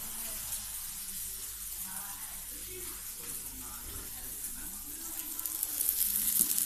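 Mhajeb, folded Algerian flatbread brushed with oil, sizzling steadily in hot oil on a pan, a constant close frying hiss that swells slightly toward the end.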